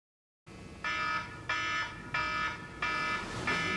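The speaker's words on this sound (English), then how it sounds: "when some kind of alarm sounds" An electronic alarm starts abruptly after a moment of silence and beeps in loud, evenly spaced pulses, four or five bursts in quick succession, heard up close with nobody talking.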